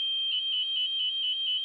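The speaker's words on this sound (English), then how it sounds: "These piezo buzzers are used as a speaker, but they can also be used as a microphone" Piezo buzzer in a Joule ringer circuit emitting a steady high-pitched electronic tone that pulses in regular beeps, about six evenly spaced throbs over a continuous whine, clear and alone.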